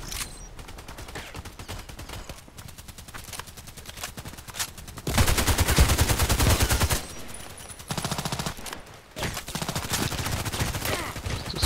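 HK417 rifle firing in a shooter video game: rapid, continuous bursts of automatic fire, loud and close, with a few short pauses between volleys.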